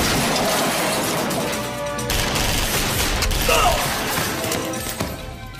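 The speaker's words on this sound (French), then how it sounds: "d'où est-ce qu'ils viennent ces coups de feu" Dense, chaotic bursts of gunfire and crashing impacts run continuously throughout, loud and close, with faint voices mixed underneath.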